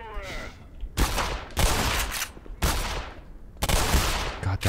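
Gunfire from a character shooting in Black Mesa, four loud bursts of rapid shots roughly a second apart, each ringing out and decaying before the next, with a short tonal game sound at the start.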